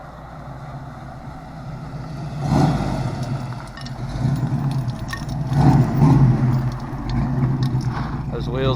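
A project car's engine rises from a distant approach to a loud, rumbling pass by, swelling around the midpoint and fading after, with people talking over it and some wind noise.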